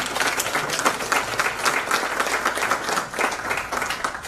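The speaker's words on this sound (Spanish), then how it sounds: "Un aplauso." Audience applause at a political campaign event on disability, a dense steady patter of many hands clapping throughout, fairly loud and close with a faint murmur underneath.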